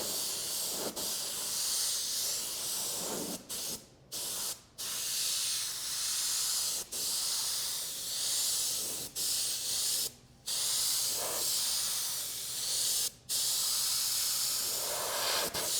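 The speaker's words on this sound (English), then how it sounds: "for you new airbrush people out there, down for air, back for paint" An airbrush sprays pearl and candy paint in a steady, close hiss, broken by several short pauses where the trigger releases, with no talk over it.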